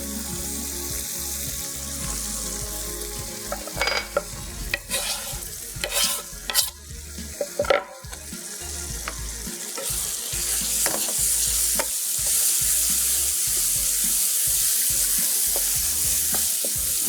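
Tomatoes fry in a pan of masala while a spoon scrapes and stirs, loud sizzling under a run of sharp clanks and knocks early on, then a denser, steadier frying hiss with occasional taps; nobody speaks.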